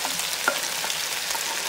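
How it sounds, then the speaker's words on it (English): Cut sausage and potatoes fry in a Power XL pot with a steady, close hiss while a utensil stirs them together, with faint clinks and no voices. "Mix all that up together, get it nice, good and seasoned."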